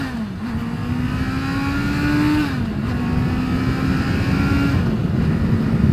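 A 2022 Honda CBR650R motorcycle accelerates along a straight road, its steady engine whine rising in pitch through a couple of quick gear changes under constant wind rush.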